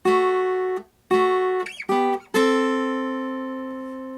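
A few sustained plucked guitar notes ring out one after another, with a bend and a final note left to decay, no talking; the intro of a song.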